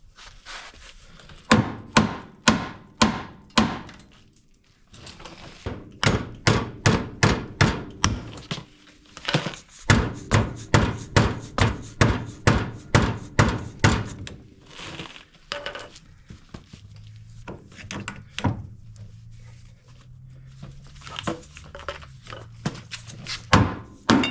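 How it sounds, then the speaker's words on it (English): A rubber mallet or hard plastic hammer strikes the A-arms of a 2011-2014 Polaris RZR 900 XP while a wheel bearing is being replaced. Sharp, rapid bursts of blows come in steady runs, separated by brief pauses, loud and close. "I'm going to use a rubber mallet, or this hard plastic type hammer"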